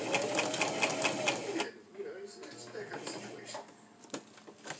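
A sewing machine stitches two fabric halves of a face mask together, running in a steady dense whir for a couple of seconds, then quieter intermittent stitching with a person talking over it.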